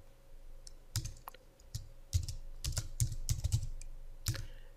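Keys clacking on a computer keyboard, including presses of the Tab key, in an irregular string of light taps and clusters, close and fairly quiet, with no talking.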